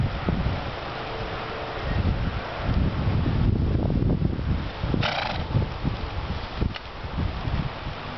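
Gusty wind buffets the microphone with low rumbling surges on a windy day where a patient mare stands and backs up, with a brief rustle and a few faint horse sounds mixed in.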